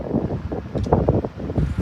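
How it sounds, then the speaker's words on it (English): Strong winter wind roars in gusts against the microphone, a loud, rumbling, buffeting blast that swells and dips over a couple of seconds. "I don't know if you can hear me over the wind"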